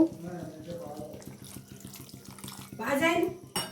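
A little water poured into a pan of pointed gourds, a close running trickle that swells near the end over faint background sounds and a low rhythmic tapping.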